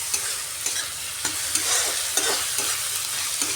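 Onions with salt fry in a pan while a spatula stirs them, rhythmic scraping strokes over a steady close sizzle, with no voices.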